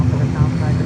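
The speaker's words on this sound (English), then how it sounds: "I heard the props on my headphones because this thing is loud as hell on my headphones" A loud propeller aircraft passing over Fort Lauderdale airport, a steady heavy engine drone filling the brief moment, close and strong.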